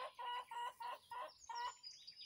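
Backyard hens cluck in a quick series of five or six short, close calls, followed by a softer trailing cluck.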